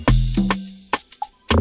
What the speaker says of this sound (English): we got this field drum from, I think, the same Semi Beats drum kit